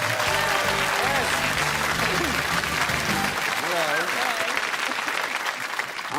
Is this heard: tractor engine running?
no